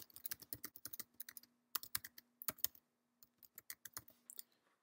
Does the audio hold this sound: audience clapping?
no